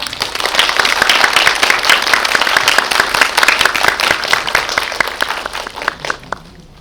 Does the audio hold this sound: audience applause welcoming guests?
yes